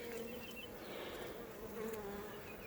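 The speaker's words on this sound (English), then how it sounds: "so these bees are jamming" Honey bees buzz in a dense, continuous drone over nectar-filled comb frames reinforced with wire, a soft, close hum with no talking.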